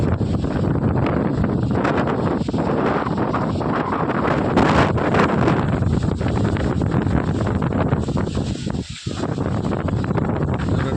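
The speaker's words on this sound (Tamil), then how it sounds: "சரியான மேகமூட்டம் காற்று." Gusty wind on an overcast day roars against the microphone for the whole stretch, a loud continuous rush with a brief dip near the end.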